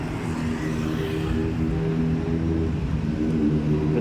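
Big motorcycles, including Benelli bikes, idle and rev their engines at a motor show in the World Trade Center hall, a steady loud low rumble that holds throughout with no voices heard.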